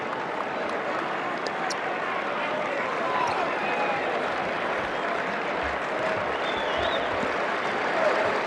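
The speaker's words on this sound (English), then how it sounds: "The tradition here at the Dome is you stand and clap until the first made field goal of the half." Syracuse basketball fans at the Dome arena stand and clap steadily during a Miami vs. Syracuse ACC men's game, a dense, continuous wash of crowd applause with murmur and occasional ball bounces underneath.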